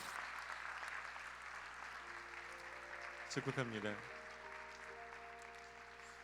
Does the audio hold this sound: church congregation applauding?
yes